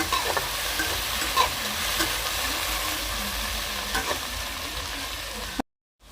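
Chopped tomatoes and onions cooking in a pan while being stirred, a steady close sizzle with soft scraping strokes throughout before the sound cuts off abruptly at the end.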